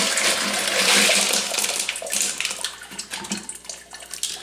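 Tumbled rocks that spent a week in 220 grit inside a rotary tumbler are rinsed under running water, a steady rushing splash that eases into uneven trickling and sloshing, close by with no talk.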